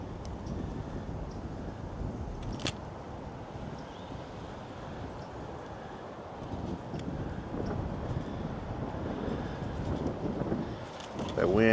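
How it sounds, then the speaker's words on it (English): Wind gusts buffet an outdoor microphone during a small drone flight, a continuous low rushing roar that swells and eases, loud and close throughout with a brief knock near the start. "That wind picking up."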